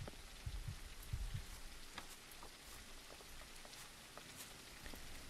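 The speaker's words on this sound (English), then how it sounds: "Oh, it's raining." Rain falls outside on a cold night at minus 11 degrees, a faint steady patter of drops with a few soft thumps near the start and no talk.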